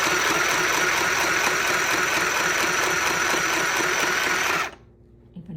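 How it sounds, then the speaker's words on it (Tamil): Mini sewing machine stitching fabric: a steady, loud, fast mechanical whir and chatter running continuously for over four seconds before stopping abruptly into near silence. "மறுபடியும் அதை கரெக்டான அலைன்மெண்ட்டில் வச்சு ஸ்டிச் பண்ணுறேன்."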